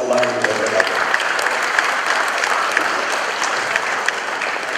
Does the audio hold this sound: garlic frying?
no